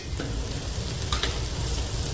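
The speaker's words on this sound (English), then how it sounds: "Okay, so I'm adding some ghee." Ghee sizzling with already cooked onions in a pan while making butter chicken, a brief steady close frying hiss with faint stirring clicks.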